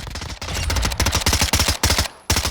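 Rapid automatic fire from an AK-105 and a suppressed MP5SD in Call of Duty Modern Warfare II, loud close bursts of punchy shots with short pauses between strings.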